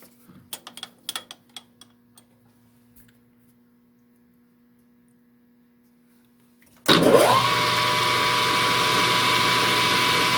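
A few light clicks, then near silence, before a metal lathe abruptly starts up and runs loudly with a steady, high whining hum close by while center drilling a steel flywheel.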